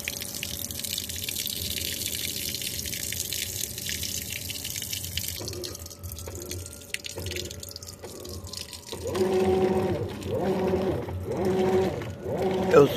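A restored Maytag Bravos XL washing machine on a low-water wash: water rushes in steadily over a motor hum, stops, and then rhythmic churning swishes follow, close and clear.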